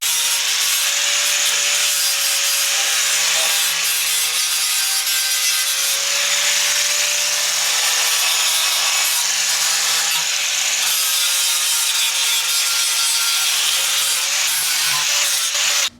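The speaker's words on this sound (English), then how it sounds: "I'm using this like polishing disc to kind of get all the little rust spots off of it" A spinning polishing disc grinds rust spots off metal during a Mazda Miata rebuild, a continuous high-pitched abrasive grinding, loud and sustained, with a steady motor whine underneath.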